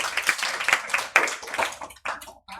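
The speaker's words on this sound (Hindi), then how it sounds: "इसके लिए तालियां बजाइए आप लोग" Scattered clapping from an audience at a Bihar Board 2026 topper felicitation ceremony, honouring a student; uneven bursts of hands that thin out and stop in short gaps toward the end.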